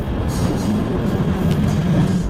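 A metro train in Malaysia, at a station platform, gives a loud, steady rumble with low rattling and rolling wheel noise throughout, close by and with no talking.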